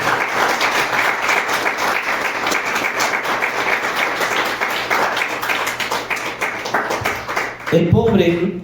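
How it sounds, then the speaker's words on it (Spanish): A church congregation claps loudly and continuously for several seconds as an offering of applause, and the applause breaks off near the end into a brief burst of voices. "Puedes dar una ofrenda de palmas al Señor Jesucristo"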